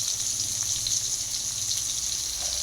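Potato pieces fry in a pan with salt and turmeric, giving a steady, close sizzle with a bright crackling hiss and faint bubbling that carries on without a break.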